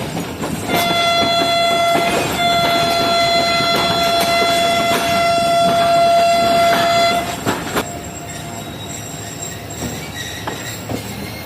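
The 36 Down Sir Syed Express, which runs between Rawalpindi and Karachi, stands at platform 1 ready to depart. A long, loud, tonal horn blast sounds for several seconds over the rumble and clanks of railway cars, then only quieter station and train noise remains.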